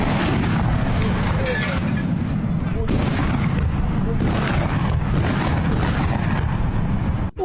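A Russian UPAB-1500 guided aerial bomb explodes with a heavy, sustained booming rumble that fills the whole stretch, loud and dense, while a voice talks over it.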